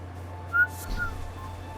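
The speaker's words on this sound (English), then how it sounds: "I probably shouldn't whistle right into the mic." A person whistles a few short, thin notes right into the microphone, close and clear over a quiet background hum.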